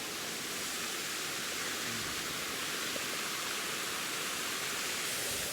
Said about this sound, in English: That's a bit of waterfall behind us.